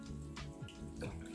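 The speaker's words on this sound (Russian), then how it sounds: "Промываем его несколько раз холодной водой." Rice being rinsed several times in cold water, with splashing and dripping water close by, swishing sounds over a soft steady background and no speech.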